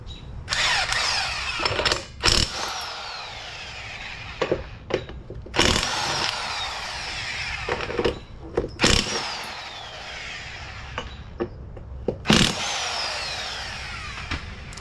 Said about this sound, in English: We're going to need a 17mm socket, pull off this hub.